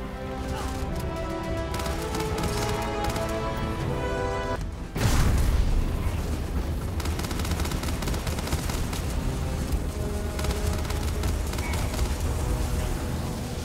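Dense video game gunfire in Starfield, a continuous fusillade of shots and booms over music, growing heavier and louder after a sharp break partway through, with no talk.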